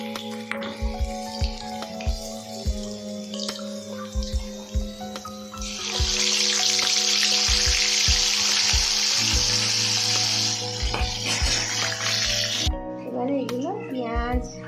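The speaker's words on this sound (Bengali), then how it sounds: "তুলে নিয়ে আবার যেগুলো আছে ওগুলো এইভাবে একইভাবে ভেজে নেবো" Pieces of katla fish fry in a pan of hot oil, giving a steady loud sizzle that swells midway, with utensil knocks and a voice talking over it.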